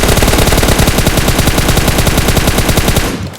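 Gunfire in PUBG Mobile, a loud continuous rapid burst of shots that hammers on for about three seconds and then cuts off abruptly.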